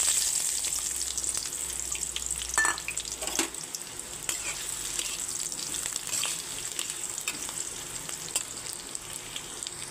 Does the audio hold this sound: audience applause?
no